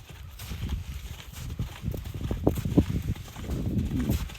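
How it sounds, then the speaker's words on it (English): Faint hoofbeats of a cantering horse, heavy on the forehand, thud in an irregular rhythm over low rumbling background noise, with the animal at a moderate distance. "Now you can hear her foot fall."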